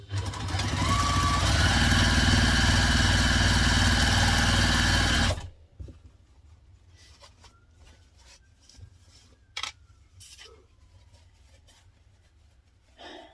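A domestic sewing machine top stitches a fabric onigiri bag, running in one loud, steady, close whir for about five seconds before stopping, followed by quiet fabric handling and a few soft clicks.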